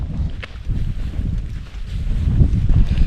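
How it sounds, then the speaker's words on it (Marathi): Wind blows across the microphone on a footpath at Varugad fort in a low, rumbling buffet that swells and eases continuously, with a few faint knocks. "मस्त थंड वारा येतो इकडे"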